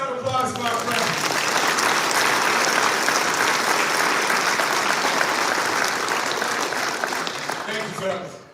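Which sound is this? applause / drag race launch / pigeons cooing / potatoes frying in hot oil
applause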